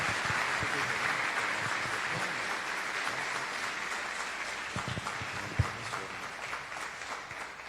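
Steady applause from a church conference congregation fills the space, a continuous wash of clapping with a few sharper claps standing out near the end.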